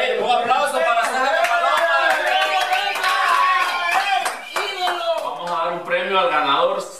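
A small group claps for the winner of a challenge at a hotel in Ataco, sharp close hand claps mixed with lively overlapping voices and laughter throughout.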